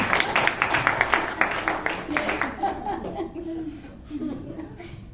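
Audience at a Rotary Club gathering claps in a short burst of scattered hand claps mixed with chuckles and laughter, fading after a few seconds as a voice begins to talk.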